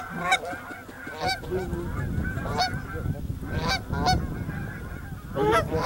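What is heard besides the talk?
flock of geese honking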